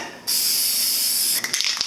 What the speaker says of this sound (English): It says it's got a wide fan spray, but I mean it lays on really smooth.